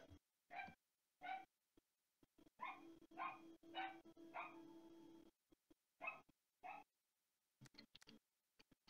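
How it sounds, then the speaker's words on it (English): A dog in the room barks in short separate yaps and whimpers, several bursts spaced irregularly with quiet gaps between, fairly close but modest in level. "Sorry about the dog again."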